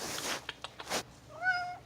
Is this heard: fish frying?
no